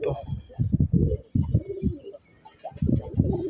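Male pigeons let out of a loft coo close by in soft bursts, with talk running over and between the calls.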